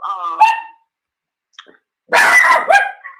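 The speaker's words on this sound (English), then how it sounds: "Oh, let me deal with my dog." A dog barks in a few sharp, close bursts with pauses between, loud and without any talk over it.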